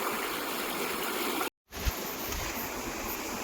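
A river flows beside a walking track near Glenorchy, giving a steady, even rushing wash at low level, broken by a brief cut of silence partway through.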